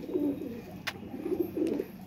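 Weaver pigeons in a cage cooing softly nearby, a run of low rolling coos in short bursts, with a brief click partway through.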